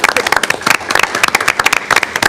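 Short burst of clapping at a school board meeting, a small group applauding with sharp uneven claps for about two seconds, no voices over it.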